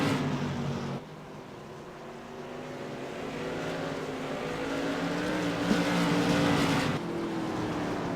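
Modified race cars roaring around Irwindale Speedway, a continuous droning engine pack that swells and fades as cars pass, growing louder toward the end before dropping back, heard from the grandstand distance with no talk.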